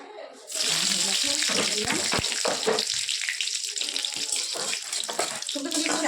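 Panch phoron, bay leaf and dried chilli hit hot mustard oil after a quiet start, bursting into a loud, crackling sizzle that spits and pops before settling slightly.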